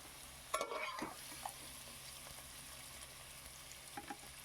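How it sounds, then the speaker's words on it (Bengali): Jackfruit pieces fry in oil, with a faint steady sizzle under occasional stirring and clinks of a utensil against the pan. "এবার আমি সেকেন্ড ব্যাচ এঁচোড়গুলোও কিন্তু একইভাবে ভেজে নেব।"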